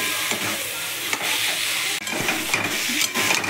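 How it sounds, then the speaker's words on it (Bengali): Dried fish curry with potato and eggplant sizzles loudly in hot oil in a pan, with steady frying hiss and rhythmic spatula scraping and stirring strokes close by. "শুটকি মাছটাকে আমি দিয়ে দিলাম, দিয়ে আর একটু ভালো করে নাড়াই করবো"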